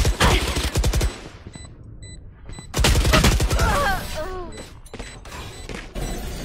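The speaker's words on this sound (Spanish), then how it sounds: "Hemos disparado desde la cadera, Rey." Rapid bursts of video-game gunfire fired from the hip, loud and close, with dense automatic volleys broken by brief pauses and a few chirping effects between.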